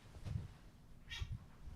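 A house cat meows a couple of brief soft calls near a window indoors, quiet and close with no talk over them.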